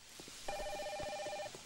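Telephone rings for about a second in The Simpsons Hit & Run video game, a steady electronic double-tone trill standing alone over quiet game ambience.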